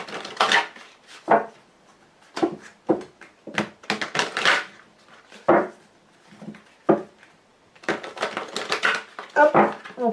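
A Lenormand card deck being shuffled and cut, close and crisp: irregular bursts of riffling and slapping cards with brief pauses between them, alone without talk.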